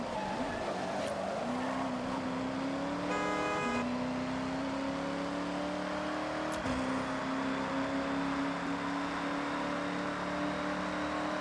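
A car engine drones and rises steadily while driving toward and over a bridge in Forza Horizon 6 on Xbox Series X. Brief tire or road transients break up the steady hum of driving noise.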